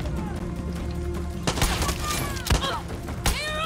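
Sharp bursts of Far Cry 6 gunfire crack out in quick clusters over a busy background of game music and effects.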